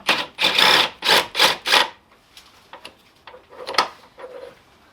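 A ratchet loosens a side motor mount bolt on an 8th-generation Honda Civic. Five quick bursts of rapid clicking come close and loud, then scattered fainter ticks and clinks follow, with no speech.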